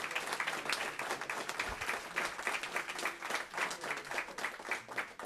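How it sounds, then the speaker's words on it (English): Applause from a city council meeting audience in North Miami honoring a retiring officer's 33 years of service, a steady wash of many hands clapping throughout, moderately loud and continuous with a brief low thump partway. "So first off, give a round of applause to 33 great years."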